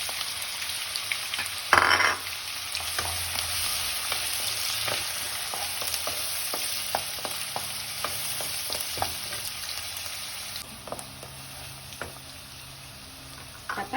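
Finely chopped onions sizzle and fry in hot oil with cloves and peppercorns, a steady crackling hiss with a sharp splash as they go in and scattered stirring taps, for an egg bhurji masala curry.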